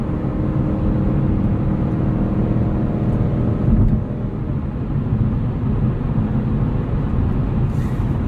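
A 2022 BMW M5 CS engine hums at a steady, loud drone from inside the cabin, with its 8-speed automatic gearbox working through shifts and a brief surge in level near the middle.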